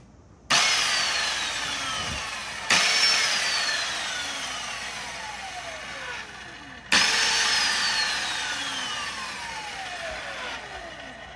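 An electric motor on a Razor E100 scooter, overvolted with a 40V battery through a 12V relay throttle, whines up loudly three times, each surge gliding down in pitch as the motor coasts.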